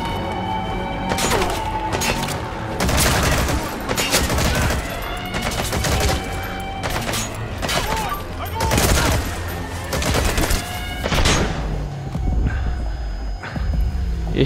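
Repeated bursts of gunfire from the Metal Gear Solid V video game, loud and close, come in clusters of sharp shots and short automatic volleys laying down cover fire, with faint footsteps and hum between bursts.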